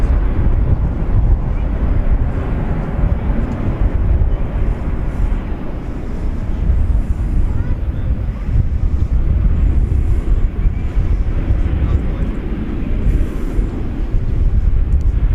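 An Envoy airliner lands on runway 18 right at DFW Airport, a loud, steady wide-band jet roar with wind buffeting that stays strong and close throughout.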